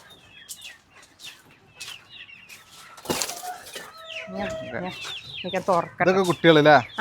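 Native hens cluck and chirp repeatedly, scattered at first and growing busier and louder toward the end, with occasional rustling and a brief sharp noise.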